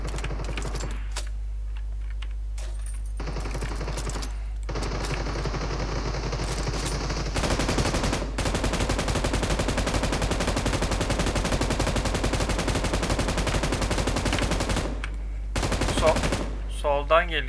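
Rapid gunfire from PUBG Mobile rattles in dense bursts through most of the stretch, loud and sustained with brief pauses, over a constant low hum with faint talk.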